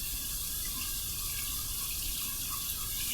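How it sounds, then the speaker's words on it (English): Cold tap water runs steadily over a solid alum block at a sink, a continuous close hiss and splash with no break and no talking. "We're going to run this under some cold water"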